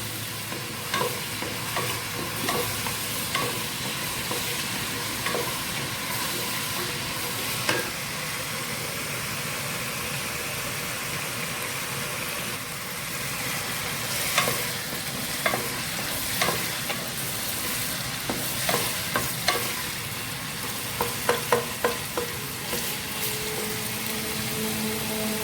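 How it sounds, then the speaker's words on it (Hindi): Mutton paya frying in a pan for a minute or two, a continuous dense sizzle with occasional clinks and scrapes of stirring, steady and close throughout. "इसको को हमने थोड़ी देर फ्राई करना है, 1 से 2 मिनट"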